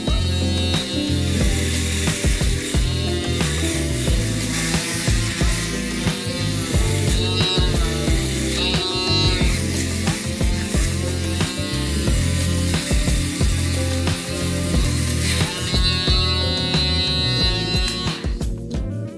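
An electric shaver buzzes over a scalp, a continuous close whirring that rises and falls in pitch as it moves across the head.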